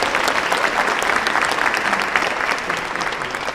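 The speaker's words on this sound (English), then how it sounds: "Give them a great big round of applause" Steady, full round of applause from an audience honoring a team and volunteers at a California public service event, continuous and evenly loud throughout.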